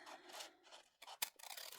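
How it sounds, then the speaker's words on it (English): Small scissors snip through a paper card pattern at close range, a few quick, crisp rasping cuts in short bursts with brief pauses between them, quiet and alone. "I'm going to use my smaller scissors here."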